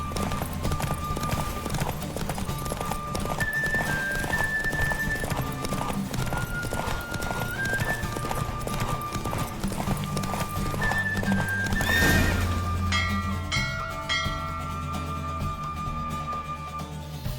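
In The Witcher 3, hooves pound in a fast, steady gallop during a horse race while a horse whinnies now and then, layered over a musical score.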